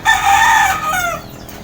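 A rooster crows once, loud and close, its drawn-out call rising then trailing off over about a second and a half, with faint background noise and no talk.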